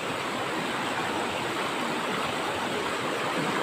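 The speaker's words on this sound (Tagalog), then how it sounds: "susubukan nating tawirin tong ilog na to parang ano parang malalim tong ilog" River water rushing after flooding in Davao de Oro, a steady broadband roar of flowing water with no pauses, loud and close, without any voices.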